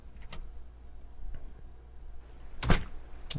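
A door opens in a video game with a sharp, close clunk and creak late in the moment, preceded by faint scattered ticks over quiet ambience.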